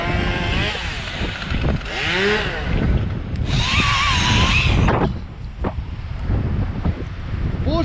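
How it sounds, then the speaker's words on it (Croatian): Strong wind gusts roar in surges around a huge silver fir being removed above a road, with the broad rushing noise rising and falling and a voice briefly heard beneath it. "Puše full jako."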